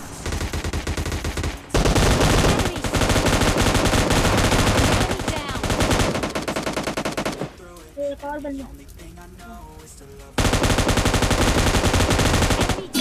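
Rapid, loud automatic gunfire in PUBG Mobile Lite as teammates take heavy fire, sustained bursts broken by a short gap and a quieter stretch of scattered shots before the barrage resumes.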